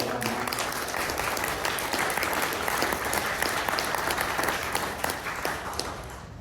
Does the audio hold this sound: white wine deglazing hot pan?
no